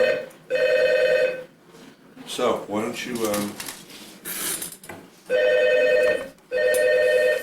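An old-style telephone bell rings in long loud bursts at the start and twice near the end, close by, with someone speaking briefly between the rings in a custom bass workshop in Santa Barbara.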